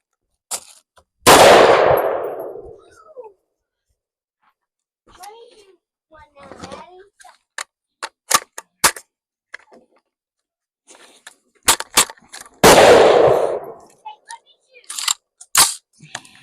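Two loud, sharp rifle reports with ringing tails, about eleven seconds apart, from .223 and 5.56 rounds fired at a cheap level 3 body armor plate set far downrange, with scattered clicks and handling noises between them.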